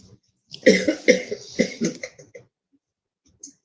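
A short run of four or five dry coughs in quick succession close to the microphone, then a faint breath before silence.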